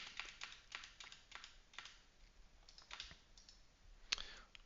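Typing on a computer keyboard while entering data points for a quadratic regression, a quiet run of irregular key clicks with a sharper tap near the end, no talking.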